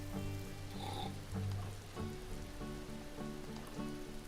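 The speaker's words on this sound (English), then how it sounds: "Rain is good." Rain in the video game Mr. Prepper, a soft steady patter of drops on a surface with a low rhythmic hum underneath, continuous and fairly faint.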